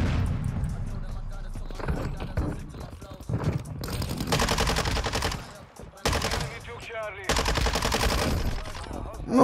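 Rapid bursts of automatic gunfire from a weapon in Call of Duty: Modern Warfare II, loud and dense, arriving in several long volleys separated by brief pauses, with voices talking beneath the shooting.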